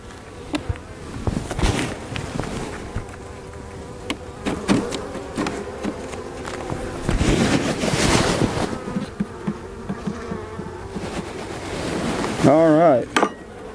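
Honey bees buzz around an open beehive during beekeeping work, a busy swarming drone with scattered close fly-bys, handling knocks and rustles, and a louder burst near the end.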